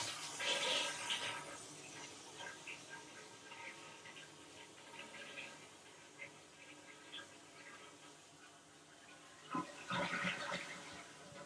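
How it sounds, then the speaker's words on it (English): A household toilet flushes up close, a loud rushing surge of water that swirls and drains over several seconds, then a second burst of gurgling refill toward the end. "And I'm flushing."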